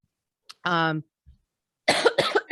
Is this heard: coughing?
yes